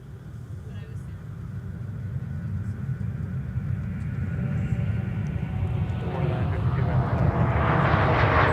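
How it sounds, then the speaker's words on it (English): A Metroliner turboprop rolls down the runway at Minneapolis–St. Paul Airport, its engine roar building steadily louder and brighter from a distant rumble to a close, strong drone. "looks like we're going to have a Bemidji Aviation aircraft, probably a Metroliner. Going to be going long on its roll to taxiway Mike"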